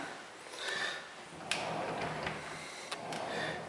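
A pocket door with rain glass slides in a bathroom, making soft, faint rolling swells broken by two sharp clicks, with no voices.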